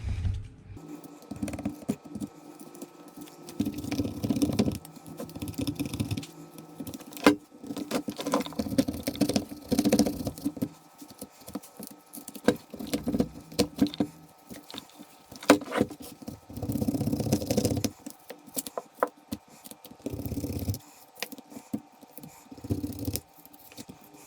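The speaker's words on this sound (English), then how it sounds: "I have this spackelspade, I call them in Sweden, that I can remove the tape here" A putty knife scrapes tape off a 36V Promovec e-bike battery pack padded with old EVA foam, giving quiet, irregular bursts of scratchy scraping and patter with short pauses between strokes.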